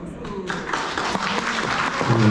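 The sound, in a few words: applause at a wedding ceremony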